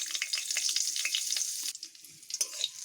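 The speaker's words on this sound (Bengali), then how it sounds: "এগুলোকে একটু এইভাবে ভালোভাবে ভেজে নেব।" Two dried red chillies and nigella seeds frying in hot oil, a bright close spitting sizzle that crackles steadily for a couple of seconds, then thins into a few scattered pops.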